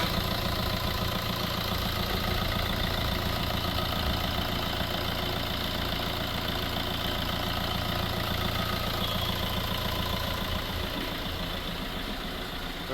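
A 2015 Fiat Punto Evo Quadrajet diesel car sits idling, its engine giving a steady, even clatter and hum at constant volume with no voices.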